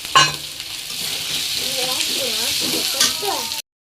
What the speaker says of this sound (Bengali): আদা রসুন দেওয়ার পরে যে একটু লাল লাল করে ভেজে নিলাম, আলু কুচিগুলো দিয়ে দিলাম।